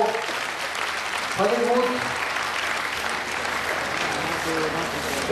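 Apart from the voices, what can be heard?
audience applauding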